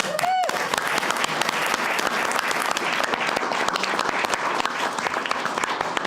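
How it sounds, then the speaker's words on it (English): Audience members at a city council meeting break into steady, sustained applause, a dense patter of clapping that continues for several seconds at moderate loudness. "round of applause for them"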